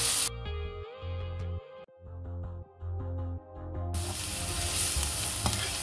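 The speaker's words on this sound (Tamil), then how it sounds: "வெங்காயம் பார்த்திங்கன்னா ஓரளவுக்கு வதங்க ஆரம்பிச்சிருச்சு." Onions sautéing in a pan with cumin and a little salt, a steady sizzle with faint spoon scrapes, the sound cutting out briefly between stretches before turning into a louder, hissing fry toward the end.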